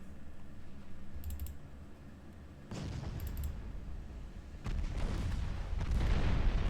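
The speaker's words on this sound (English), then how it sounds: "Torpedo detonation. Love to see it." A torpedo detonation during a naval battle in Ultimate Admiral Dreadnoughts, with rumbling bursts of explosions and gunfire that swell louder and denser toward the end, layered over a steady low battle drone.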